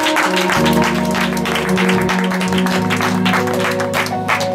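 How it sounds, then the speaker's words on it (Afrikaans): Church congregation clapping in praise during a service, a dense continuous wash of applause with sustained music or singing running underneath throughout. "Kom ons gee die Here 'n klap prys."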